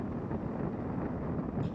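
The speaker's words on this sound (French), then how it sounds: "Voilà, je me protège du vent." Steady, loud wind roar buffets the microphone of a cyclist riding in a 2019 road bike race while sheltering in the pack, a constant low rumbling rush with no pauses or talk.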